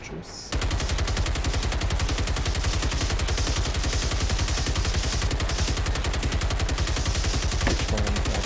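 Rapid, continuous automatic gunfire in the video game Generation Zero rattles on steadily for several seconds at close range, a dense unbroken stream of shots with faint clicks beneath.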